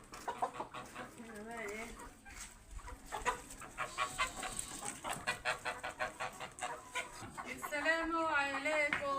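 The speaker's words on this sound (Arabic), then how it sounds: "بدخل الفراخ" Chickens clucking and squawking on a rooftop as they are herded indoors, a close, busy run of repeated calls mixed in with people talking.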